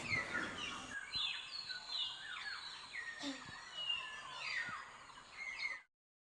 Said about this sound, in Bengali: আমরা এই সময় উপভোগ করছি পাখির কলরব সব পাখি আস্তে আস্তে তাদের বাসায় ফিরে যাচ্ছে